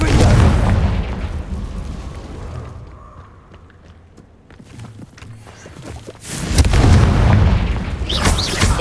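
Booming blasts from the Confringo spell in Hogwarts Legacy, heavy explosive bursts at the start and again near the end with a quieter lull between, loud and close amid game noise.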